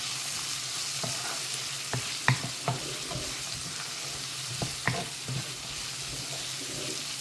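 Vegetables with curry powder sautéing in hot oil in a home kitchen, a steady background sizzle broken by a few sharp scrapes and stirring knocks of the spoon against the pan, with no voices.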